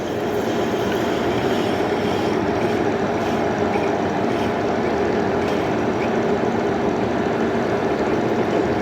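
A lathe runs at high speed turning tapered cones on repair bolts, giving a loud continuous whirring rumble with a steady machine drone and slight fluctuations throughout, with no talking.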